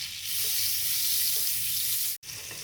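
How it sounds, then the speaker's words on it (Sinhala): Two tablespoons of butter melt and sizzle in a pan on the stove, making a steady, close, loud frying hiss that holds almost the whole time, with one very short break near the end and no talking. "භාජනයක් ලිපේ තියලා අපි ඒකට එකතු කරගන්නවා අරගත්තු බටර් මේස හැඳි 2"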